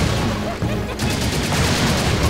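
Rapid Uzi fire in the Serious Sam 2 video game rattles in a dense, continuous burst of crackling shots over a loud background of battle noise.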